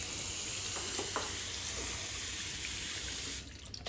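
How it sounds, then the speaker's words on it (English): Water runs steadily from a tap into a sink while hands are washed, a close, even hiss of flowing water that stops abruptly just before the end. "And then wash hands."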